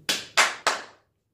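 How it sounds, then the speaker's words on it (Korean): A golf club strikes golf balls three times in quick succession, each a sharp, close crack with a short decaying tail, ending in silence. "공이 딱딱딱 소리가 나면 오 스트레스가 정말 해소돼요"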